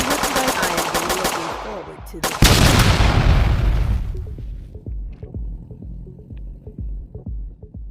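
Kalashnikov fire in a video game rattles out as a rapid burst, then a heavy blast hits and fades into scattered lighter pops, while game voices and talk run under it.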